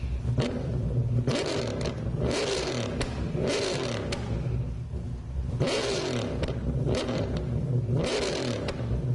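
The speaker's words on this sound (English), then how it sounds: "That engine sounds so nice." A car engine in Gran Turismo 7 revs repeatedly, rising and falling in loud surges, with a throaty exhaust rumble and no talking.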